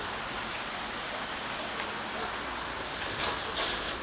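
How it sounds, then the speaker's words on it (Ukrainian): Heavy rain pours down outside an auto repair shop during servicing of a Volvo V50, a steady dense hiss throughout with slightly louder gusts near the end, no talking. "Вон дощ почав валити."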